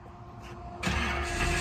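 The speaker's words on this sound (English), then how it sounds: "He's gonna start it up for me." A 1969 Chevrolet Nova SS engine is cranked and catches, a short starter whir building into a sudden loud burst of engine noise close by.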